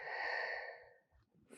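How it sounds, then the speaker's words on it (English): One long, steady breath at close range during a Pilates exercise for sciatica, fading out, with no speech. "4 more, breathing in,"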